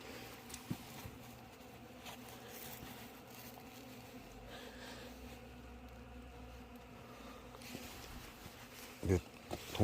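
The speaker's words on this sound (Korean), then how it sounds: "이게 동양종 꿀벌의 특징이죠. 건드리면 샥샥 소리 내는 거." Disturbed Asian honeybees in a hive give off a faint, steady buzzing hiss, with soft rustles and a few louder knocks near the end.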